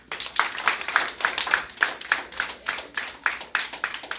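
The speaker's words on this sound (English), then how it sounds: "Give it a hand clap." A small church audience claps in an irregular patter of hand claps, close and moderately loud, at a steady rhythm without talk.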